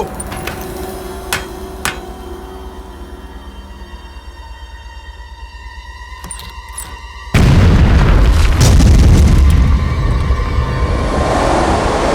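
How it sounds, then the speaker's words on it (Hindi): A cartoon explosion blasting apart a rock: a sudden loud boom bursts in after several seconds of tinkling, chiming music and then rumbles on as a dense, sustained roar to the end. "उड़ा दो इस चट्टान को।"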